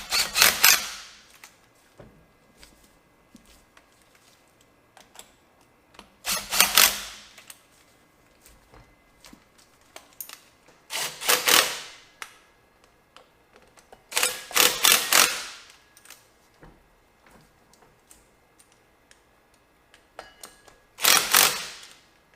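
Ratchet tightening the center bearing bolts on a driveshaft during a center bearing replacement, heard as five separate bursts of rapid clicking spaced a few seconds apart, close and loud, with faint handling noises between.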